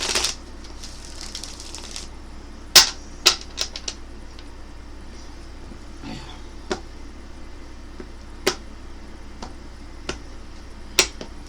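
Hand shuffling of a tarot deck, with a soft papery rustle at the start, then a string of sharp card slaps and snaps spaced irregularly. The sound is close, over a quiet hum.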